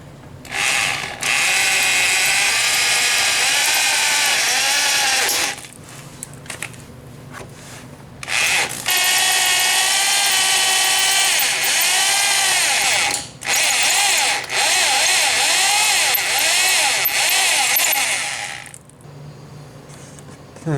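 A power drill bores a hole through bent metal, with long loud bursts of whining, grinding cutting broken by short pauses, heard up close and without talk.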